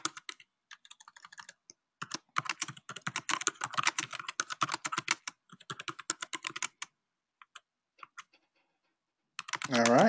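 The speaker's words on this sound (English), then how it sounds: "I'm just going to type." Typing on a computer keyboard comes in quick, close clicking runs broken by short pauses, with a brief louder noise at the very end.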